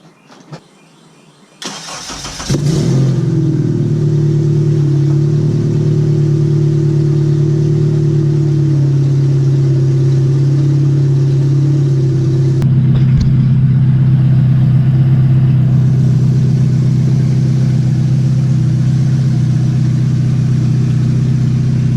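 A budget Honda K-series engine swapped into a car cranks over and catches, then settles into a steady, loud idle close by with no knocking and no talk, running evenly to the end.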